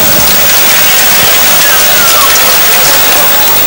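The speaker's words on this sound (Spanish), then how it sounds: "La cantidad de granizo que está cayendo en este momento." Hail pouring down on an open football stadium during a championship final, a loud, steady, dense hiss of impacts filling the whole stretch with no breaks.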